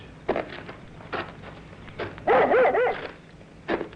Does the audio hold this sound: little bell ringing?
no